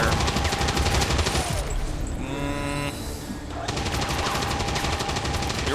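Overwatch gunfire in XCOM 2 rips out in dense automatic bursts, loud and close, briefly easing in the middle before another volley resumes, with a voice faintly present.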